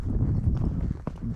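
Muffled, uneven thuds of a ridden horse's hooves crossing a meadow, close and brief, with faint wind rumble.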